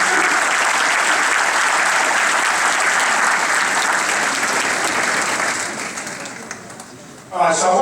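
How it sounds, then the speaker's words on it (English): Sustained applause from an audience at a gathering at Huber's, welcoming a new Indiana University football linebacker; dense steady clapping fills the room, then thins and fades out before a voice begins at the very end. "let's go around the applause"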